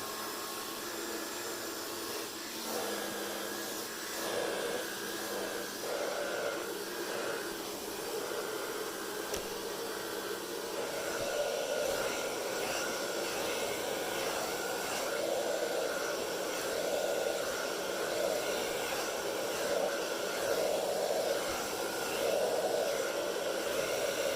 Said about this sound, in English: This blow dryer is so strong.